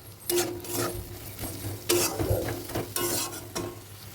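Ingredients frying in a pan before thankuni greens go in, with a soft sizzle under repeated scraping strokes of a spatula against the pan, close and moderately quiet, no speech.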